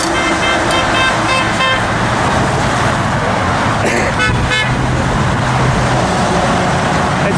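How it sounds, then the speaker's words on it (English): Cars, trucks and RVs rumble past at a rally on Patriots Day, their loud, continuous engine and road noise broken by repeated horn toots and blasts, with faint voices mixed in. "We got truckers, we got motorists, we got RV, we got SUVs, we got station wagons, we got sports cars, we got sedans."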